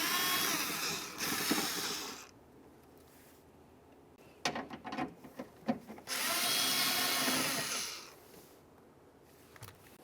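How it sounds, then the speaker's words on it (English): Power tool whirring on 10mm headed mounting bolts in a 2011-2020 Toyota Sienna door, two sustained bursts of buzzing separated by brief clicks and clunks of handling, close and fairly loud. "Let's start removing our 10mm headed mounting bolts."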